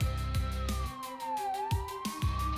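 A police siren wails, its tone sweeping down and back up, over a rhythmic pulsing thump and engine noise.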